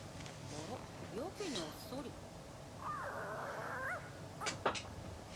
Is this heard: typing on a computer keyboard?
no